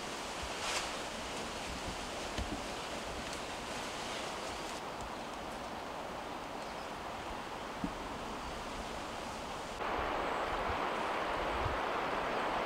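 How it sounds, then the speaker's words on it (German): The Kunene River rushes steadily near a campsite by Epupa Falls in Namibia. The broad, even roar of water is fairly faint and continues without a break, with no voices. "Dazu das beruhigende Rauschen des Kunene Rivers."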